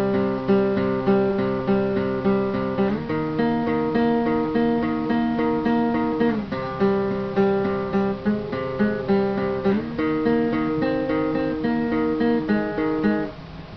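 A distorted electric guitar riff plays alone, repeating a chugging phrase with chord changes every few seconds, steady and loud throughout.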